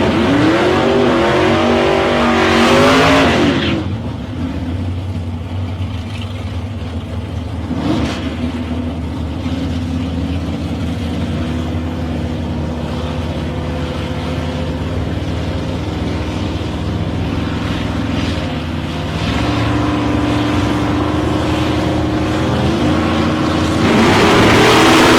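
Drag cars in eliminations at the South Coast Nationals, among them Mike Hanrahan's Holden Monaro, roar loudly nearby with rising revs and engine noise that runs through the whole stretch, with no voices.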